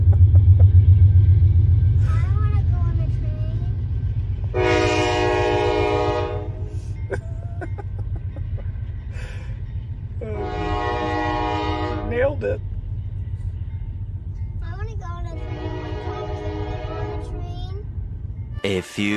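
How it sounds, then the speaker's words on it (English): A train rumbles past nearby while its horn blares in three long, loud blasts, separated by pauses, over the steady rolling of the cars. "Look at the train, Isla. Right here. Look out your window. Here it comes."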